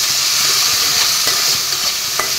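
Salt being stirred into soybean curry in a pan, with steady frying sizzle throughout and a few faint scraping knocks of a small spoon, close and alone without talk.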